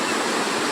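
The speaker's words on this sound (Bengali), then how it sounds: "জলের স্রোত দেখো বন্ধুরা।" Rushing river current near a dam roars as a dense, steady broadband wash of water, loud and close throughout the short moment, with no voices.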